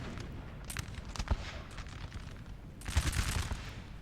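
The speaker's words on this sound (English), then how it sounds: "I love the officer with his little pop gun, just firing it off, trying to get a kill" Musket fire crackles across a Napoleon Total War battlefield between line infantry and US Marines, with scattered shots and a heavier ragged volley toward the end, set against a low rumbling din at moderate distance.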